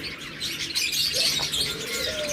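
Pet pigeons kept in pairs for breeding chirp and coo in their enclosure, a busy, close flutter of overlapping tweets and short calls with a rising whistle-like note, no talking.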